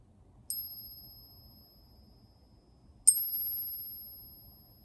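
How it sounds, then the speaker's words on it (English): Two bright metallic rings from a flicked silver half dollar coin, each struck sharply and left to hum and fade slowly, the second arriving a few seconds after the first, clear and close. "silver has a really nice ringing noise. It kind of just goes on and on and on."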